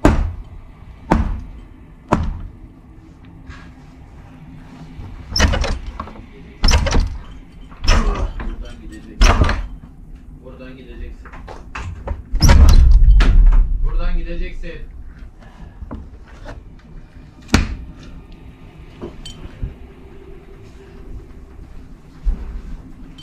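Door pushed and held shut from inside, with repeated sharp knocks and thuds against it and a loud heavy bump midway, while several people talk and call out urgently throughout.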